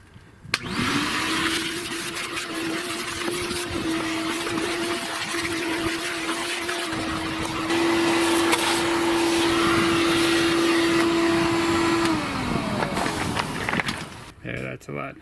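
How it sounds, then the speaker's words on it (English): A handheld vacuum cleaner runs loudly and steadily for about twelve seconds during an RV furnace install, its motor whine holding an even pitch before it shuts off near the end. "Then I got the handy vacuum."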